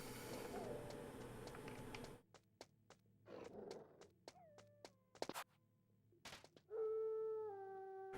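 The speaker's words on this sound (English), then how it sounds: "Bad dog. Bad dog." Dog howling in the Metal Gear Solid video game, with a few drawn-out howls and yelps broken by sharp clicks and gunshot-like thuds, ending in a longer, louder howl.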